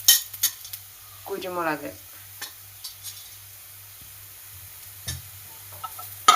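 Spice powders stirred into a puff pastry filling in a pan, with intermittent scrapes and clinks of a spoon against the pan over a faint sizzle, broken by brief speech.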